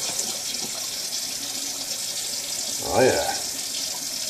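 Tap water runs steadily into a sink while a shaving brush is rinsed under it, a constant close splashing hiss; someone speaks briefly midway.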